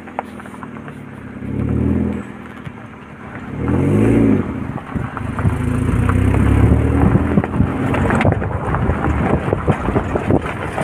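A car engine revs and drives past with a husky running alongside, its rumble rising and falling with wind buffeting the microphone.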